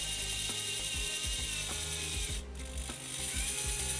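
The steering mechanism of a Bruder Ausa dumper being converted to radio control turns with a steady run of small mechanical clicks and gear whir, ticking rhythmically under a constant motor hum, close and alone.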